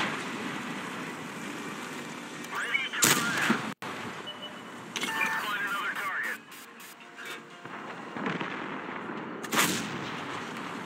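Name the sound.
tank gun shot in a video game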